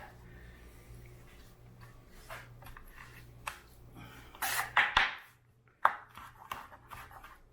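Garlic being smashed for a garlic and cheese dip: several sharp crushing knocks and thuds in the kitchen, clustered near the latter half with a scattering of smaller taps, close and fairly loud.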